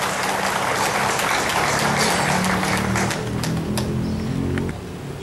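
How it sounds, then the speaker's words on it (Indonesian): Audience applause fills a government swearing-in ceremony for Central Papua provincial officials, a steady broadband clapping wash that holds loud for about four seconds before easing slightly toward the end. "Tepuk tangan untuk kita semua."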